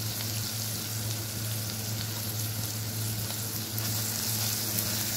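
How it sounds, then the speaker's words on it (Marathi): Onion with curry leaves, salt and turmeric frying in oil, a dense, even sizzle running close and loud from start to finish with a low steady hum beneath it and no talking. "कांदा छान तळून झालेला आहे"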